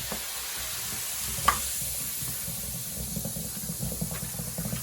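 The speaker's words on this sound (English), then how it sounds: "First the baking soda. Then the white vinegar." Baking soda and white vinegar fizz inside a sink drain, a steady soft crackling hiss with a brief sharp tick, heard close and alone throughout.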